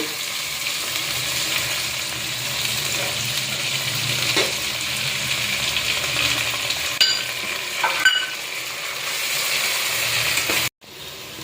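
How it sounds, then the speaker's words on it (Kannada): Ginger, garlic, cinnamon and clove paste frying in a pan, with a steady loud sizzle and occasional stirring scrapes throughout, cut briefly near the end. "ಶುಂಠಿ ಬೆಳ್ಳುಳ್ಳಿ ಸ್ವಲ್ಪ ಚಕ್ಕೆ ಲವಂಗ ಹಾಕಿ ಪೇಸ್ಟ್ ಮಾಡಿ ಇಟ್ಕೊಂಡಿದ್ದೀವಲ್ವ, ಅದನ್ನು ಇವಾಗ ಹಾಕೋಣ."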